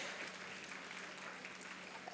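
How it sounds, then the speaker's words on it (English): Audience applause at a Kala Utsava 2024 stage programme, a dense, steady wash of clapping from a crowd that holds evenly for a couple of seconds without pause. "So a big round of applause to them"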